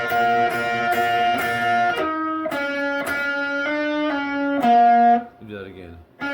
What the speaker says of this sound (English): Starting on 6G, we're pick, hammering to 7.